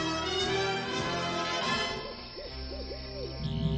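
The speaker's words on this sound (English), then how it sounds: "with a hooting owl in the background" An owl hoots in a few soft, wavering calls inside a Transformers cartoon scene from the episode Enter the Nightbird, heard faintly beneath a steady bed of background music.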